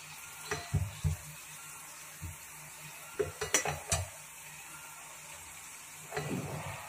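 Ingredients frying in a pan for milk payasam, heard as soft, faint stirring and scraping in short bursts over a low steady hum, with no talking.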